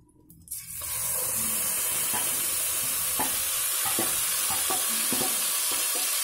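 Onion paste hitting hot oil in a pan for a summer fish curry, bursting into a loud, continuous hissing sizzle after a brief quiet start, with light stirring taps throughout.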